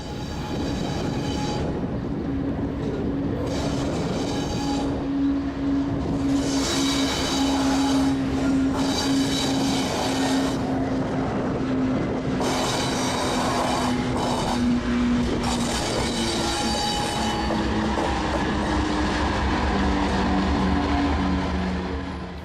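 A freight train switching in a yard, with an AC-44 and a GP60 locomotive: loud, steady rumble of engines and rolling cars, with long wheel squeals rising and fading throughout.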